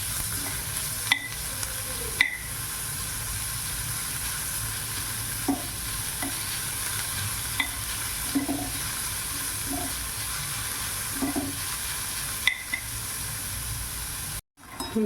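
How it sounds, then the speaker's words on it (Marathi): Finely chopped cabbage and onion fry in a pan, giving a steady, close sizzle and hiss throughout, with a few sharp clicks of stirring scattered across and a brief dropout near the end; no one speaks. "हिला छान प्रकारे फ्राय करून घेऊ."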